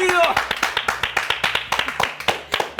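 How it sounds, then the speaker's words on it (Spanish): Rhythmic, evenly spaced claps ring out in a studio as a guest is welcomed, steady and close, with a voice over the opening beats. "lo recibimos con un fuerte ¡aplausos, Fito querido!"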